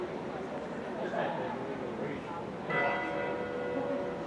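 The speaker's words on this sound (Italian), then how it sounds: "il suono festivo di queste campane della chiesa della Madonna dell'Olmo" Church bells from the campanile of the Basilica of the Madonna dell'Olmo in Cava de' Tirreni ring festively, soft and somewhat distant under a steady wash of background noise.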